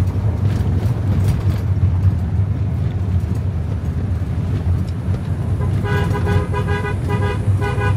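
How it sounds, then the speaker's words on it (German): Car horn on a narrow road in Da Nang, several quick toots near the end over the steady loud rumble of a vehicle engine and road noise. "Der hupt vorsichtshalber mal,"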